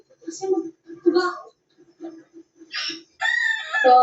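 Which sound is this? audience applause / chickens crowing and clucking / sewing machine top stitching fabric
chickens crowing and clucking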